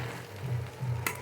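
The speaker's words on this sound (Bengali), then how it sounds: "বুকান নাড়াচ্ছে চাউমিনটা" Chow mein noodles are stirred and tossed in a hot frying pan, giving a short run of sizzling with two soft scraping sweeps and a sharp clink near the end.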